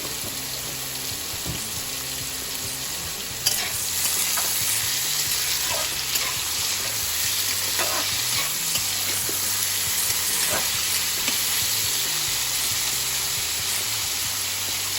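Potatoes frying in a pan for veg chowmein sizzle in a dense, constant hiss that runs unbroken throughout, with a faint steady hum beneath and occasional light crackles.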